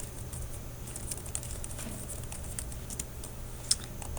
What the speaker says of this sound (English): Type in my password again.